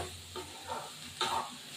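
Spiced fig and potato curry frying in a pan, a soft sizzle broken by a few scraping stirs, close and fairly quiet, with no voices.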